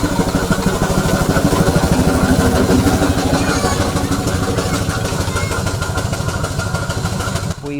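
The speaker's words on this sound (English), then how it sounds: "We've had an amazing ride on an amazing traction engine" The Victoria traction engine chugs steadily during a ride, a loud, close, continuous mechanical rumble with rapid regular clatter lasting throughout before cutting off suddenly at the end.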